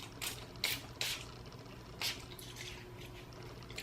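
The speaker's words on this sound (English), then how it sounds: "So I'm just gonna spray through." Short bursts of Eva NYC Mane Magic primer sprayed through hair, several quick hisses in a loose rhythm, close and fairly soft over a low background hum.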